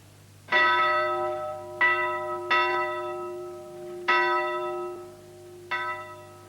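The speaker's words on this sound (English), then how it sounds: "they summoned everyone together by sounding this great bell on the roof" A great bell on the roof of a medieval town hall rings five loud, clear strikes at uneven intervals, each one ringing out and decaying slowly into the next.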